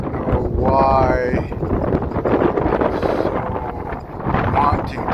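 Strong wind, dusty enough to carry brown sand, roars across an open homestead food forest, buffeting the microphone with a steady low rumble that swells and eases, a short voice-like sound rising briefly above it.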